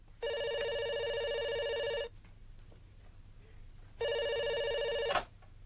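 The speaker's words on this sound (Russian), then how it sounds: "Сними трубку." An old-style telephone bell rings in two long electronic trills separated by a pause, fairly close, with faint room noise between.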